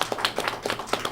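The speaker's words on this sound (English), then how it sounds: "A round of applause for her because she stepped up." An audience applauding, a short burst of several distinct hand claps in a loose, uneven rhythm, fairly close and moderately loud, with no talking.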